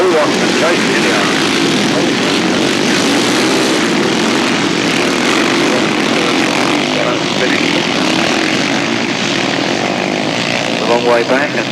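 500cc solo grasstrack motorcycles race at the 1991 South East Grasstrack Championships, a loud continuous engine roar filling the whole stretch, with a commentator talking over it.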